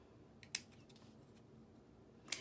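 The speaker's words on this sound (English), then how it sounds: "Now we're gonna cut these off again." Two crisp snips of scissors cutting off leaves, spaced about two seconds apart, close and clear against quiet room tone with faint handling sounds between.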